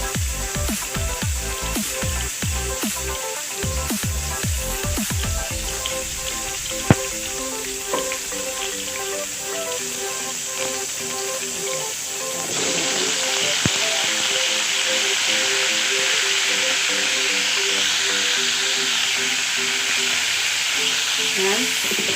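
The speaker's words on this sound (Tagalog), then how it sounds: "ipiprito ko itong potato" A potato fries in a pan as part of a beef mechado stew, giving a steady loud sizzle and hiss throughout, with a few clattering knocks at the start and the frying growing denser partway through.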